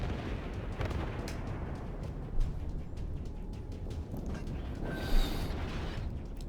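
Warship guns boom in a World of Warships naval battle, with two or three dull, moderately loud blasts spaced a few seconds apart over a rumbling, mechanical background.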